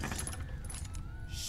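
Metal chains rattle and jangle in a short, close, loud burst as they are pulled in The Walking Dead: 400 Days game.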